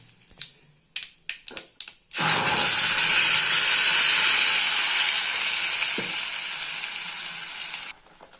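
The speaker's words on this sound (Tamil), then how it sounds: "கருவேப்பிலை போட்ட பிறகு நம்ம அரைச்சி வச்ச தக்காளி சாறை இதில் ஊற்றுறோம்" Ground tomato juice hits hot oil holding popped mustard seeds and curry leaves. A few sharp pops and crackles come first, then a loud, sustained hiss that lasts about six seconds and cuts off abruptly.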